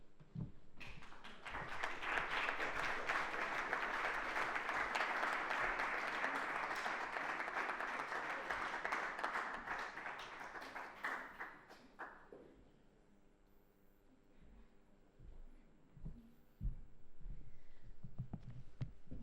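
Applause from an audience at a Spanish poetry reading marking an anniversary, a long full round of clapping that swells, holds for about ten seconds, then thins into scattered claps and quiet room noise with faint stirring.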